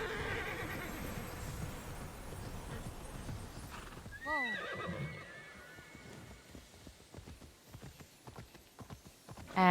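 A horse gallops and whinnies in the video game Immortals Fenyx Rising, hooves clopping steadily throughout, with a clear neigh midway and a short burst at the end.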